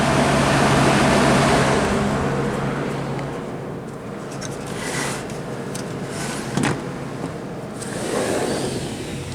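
A Friedrich HVAC unit runs outside a hotel courtyard, giving a steady broadband whoosh of fan and airflow that stays constant throughout, with a few faint knocks and shifts in the background.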